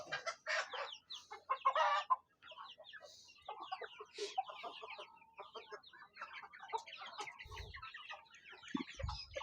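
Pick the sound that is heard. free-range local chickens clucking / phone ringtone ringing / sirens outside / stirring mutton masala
free-range local chickens clucking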